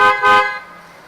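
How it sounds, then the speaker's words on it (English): Two short, loud honks from the horn of a 2008 Lexus IS250, heard up close in quick succession, the second slightly longer, followed by a fading ring. "Horn,"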